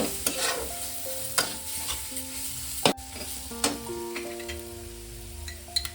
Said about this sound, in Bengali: মিনিট 2-3 একটু এইভাবে কষিয়ে নেব।